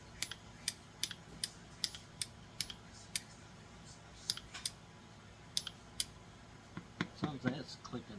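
A Ridgid grinder that won't start gives off a run of sharp, evenly spaced mechanical clicks, roughly one every half second, then a brief pause and a few more, with fainter rattles near the end.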